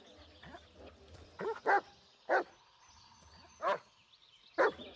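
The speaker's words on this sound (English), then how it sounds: "Dog's barking at something." A dog barks in short, separate bursts over a low game-ambience drone in the Blair Witch video game, about five loud yaps spaced irregularly with quieter whimpering sounds between them.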